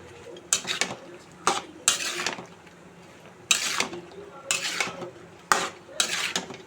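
A spoon stirs a dried fish curry with chopped vegetables in a pan, making about eight loud, close scraping bursts in an uneven rhythm, with a faint sizzle between strokes.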